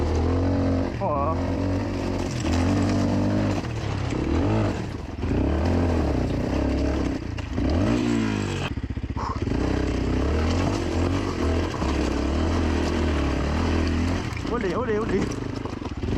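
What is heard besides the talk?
Beta RR 125 LC enduro motorcycle engine revving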